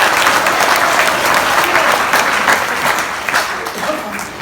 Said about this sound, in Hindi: देखो ताली बजाओ जब ही सुनाओ।